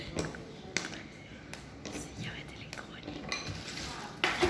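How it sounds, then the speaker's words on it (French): Knife chopping chocolate on a board for a chocolate mousse, a quiet series of irregular taps and scrapes with clinks of utensils, close by, while people murmur softly in the background. "Je coupe le chocolat."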